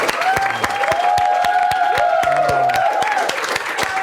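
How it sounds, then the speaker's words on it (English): An audience applauds puppets with a dense round of clapping that stays loud and steady throughout, while cheering voices rise over the claps. "One more round of applause for these puppets,"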